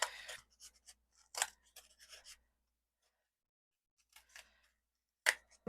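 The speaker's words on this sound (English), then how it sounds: "but I decided I wanted to use my scissors instead." Scissors snip through thin sticks for a handmade stick-bundle candle holder, making several short, crisp cuts in quick bursts with quiet pauses between, close up and alone.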